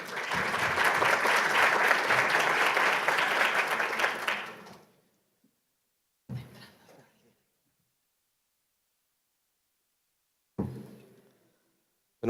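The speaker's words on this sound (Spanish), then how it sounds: "Damos un fuerte aplauso y agradecemos al doctor Rivera su presencia el día de hoy con nosotros." Strong audience applause at a formal talk, a dense round of clapping for about five seconds that stops abruptly, followed by short bursts of faint noise between quiet gaps.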